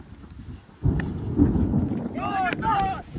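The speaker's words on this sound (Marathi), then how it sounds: "पावसाचे ठेम मोठे मोठे पडाक लागले" A deep rumble of thunder rolls in and builds over heavy, stormy rain with large drops in the Konkan, with a voice breaking in near the end.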